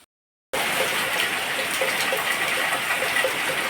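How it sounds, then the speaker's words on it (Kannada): Heavy afternoon rain pours down steadily in a dense, continuous roar that starts abruptly after a brief silence, with no voices over it. "ಮಧ್ಯಾಹ್ನ ಮೇಲೆ ಜೋರು ಮಳೆ."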